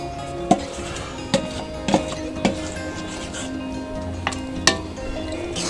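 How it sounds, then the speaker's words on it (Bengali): Broccoli paste is being stirred into boiling milk in a pot for green payesh, with a spoon knocking and scraping against the pot in several separate clinks over a low bubbling simmer. "এবারে ভালো করে মিশিয়ে নিচ্ছি"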